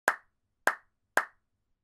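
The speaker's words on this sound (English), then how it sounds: "I clapped." Three sharp hand claps spaced about half a second apart, close and crisp with short decay, alone against silence.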